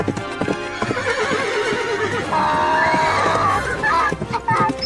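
Horse hooves clip-clop in a fast, close rhythm while a horse whinnies, with voices shouting over the hoofbeats throughout.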